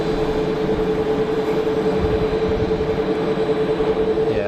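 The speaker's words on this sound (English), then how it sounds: "it's definitely a Gulfstream" Gulfstream business jet taxiing at Geneva Airport, a steady, loud engine whine with a constant tonal hum over broad rumbling roar, sustained without change and with no talk.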